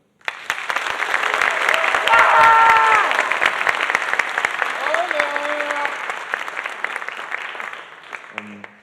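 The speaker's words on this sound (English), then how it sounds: "so a round of applause please for all of them." Audience applause at a high school spring concert, sustained crowd clapping that swells and holds for several seconds before tapering off, with a few whoops and faint voices mixed in and a voice starting right at the end.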